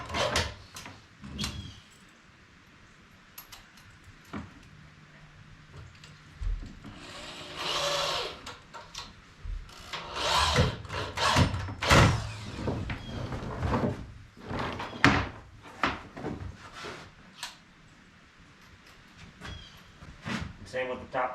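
Screws driven into a heavy-duty workshop table built on 4x4 lumber, several separate whirring bursts of a power driver at close range with pauses and clunks between, while someone talks now and then.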